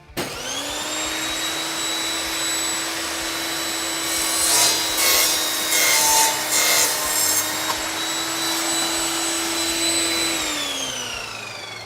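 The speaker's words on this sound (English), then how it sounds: "the 185 blade will still cut all that wood and metal to the same quality as we're about to demonstrate here" An Evolution RAGE5-S saw with a 185 blade cuts through wood studded with nails, a steady high motor whine with a rougher grinding rise midway as the blade bites, then winds down.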